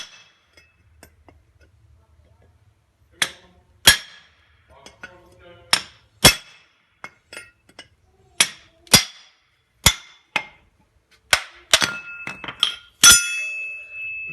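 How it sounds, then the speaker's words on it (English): A chisel struck with a hammer to split the seams of a metal high bay industrial light fitting, giving a series of sharp, ringing metallic clinks at uneven intervals, close and fairly loud, speeding up toward the end. "the trick is to give it a good belt with a chisel of some description"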